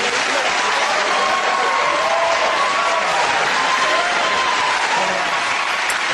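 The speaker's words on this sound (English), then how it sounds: "cheers and applause to our winners" A television studio audience at the close of a comedy panel game show claps and cheers for the winning team, a dense, loud, unbroken wash of applause that holds steady throughout.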